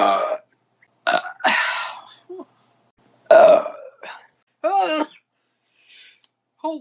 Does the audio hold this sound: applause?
no